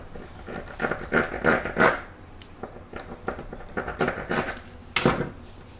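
Flax seed and cream cheese bread sticks are set down one after another on a metal baking tray, giving a run of close, uneven clatters and soft knocks.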